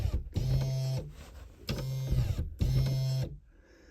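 A 2018 Dodge Durango rear liftgate latch motor whirs in three short bursts, each with a steady mechanical hum and a brief pause between, close up and loud inside the vehicle.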